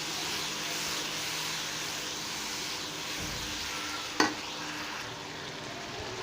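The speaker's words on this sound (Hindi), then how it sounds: "और इसको अच्छे से मैं भून लूँगा" Steady, soft sizzling of spices frying in a pan, continuous throughout, with one brief clink partway through.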